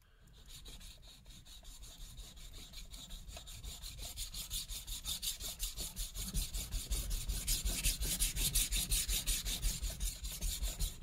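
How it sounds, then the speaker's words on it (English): A knife blade being thinned is scrubbed back and forth under firm pressure, a rhythmic rasping scrape repeating in quick regular strokes that grow louder and steadier, close and alone. "And I'm putting a fair amount of pressure, and I'm scrubbing back and forth."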